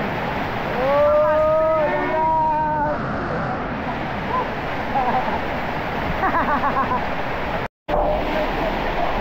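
Rushing water at the seventh and last falls of Alaxan Seven Falls fills the clip with a steady broadband roar, while people whoop and shout over it near the start.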